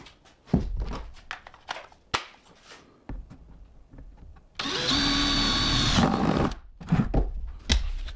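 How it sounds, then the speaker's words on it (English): A power drill boring a pilot hole in a 2-inch pipe for a backyard pond fountain: a loud, steady whine for about a second and a half, preceded and followed by scattered clicks and knocks from handling. "I will have to drill a pilot hole and then finish the rest with a jigsaw."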